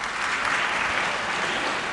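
Dense audience applause fills the room, a steady continuous wash of many hands clapping at once, loud and even from start to finish.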